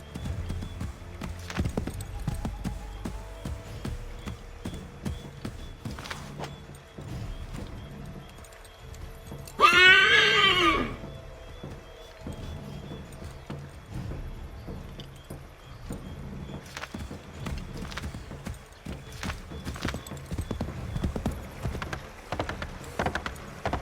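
Horse hooves clip-clop steadily through the whole stretch while riding in Assassin's Creed 3, with a brief louder whinny-like burst in the middle over low game ambience.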